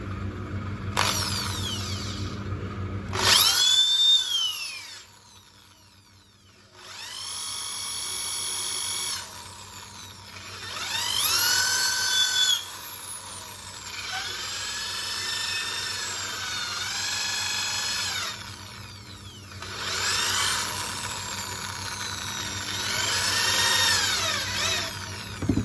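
A shofar horn is worked with a tungsten carbide cone tool, producing repeated loud grinding, whirring bursts of several seconds each, separated by brief pauses and one near-silent gap early on.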